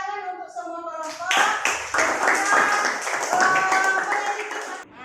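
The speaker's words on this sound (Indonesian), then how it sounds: "Jadi tepuk tangan untuk semua kelompok" Students in an Indonesian classroom clap for all the groups after their presentations, a burst of hand claps starting after a voice, with children's voices and talk mixed in throughout.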